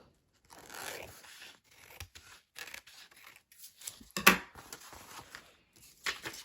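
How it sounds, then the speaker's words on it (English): Scissors trimming decorative paper for a handmade wallpaper journal, a series of short close snips and crisp cuts in uneven rhythm, with a sharper louder cut near the end and no talking. "Trim down this pretty paper."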